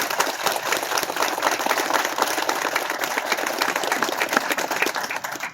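A crowd claps in a sustained round of applause at the Ryan Knauss bridge dedication at Gibbs High School, a crisp, busy patter of many hands holding steady throughout.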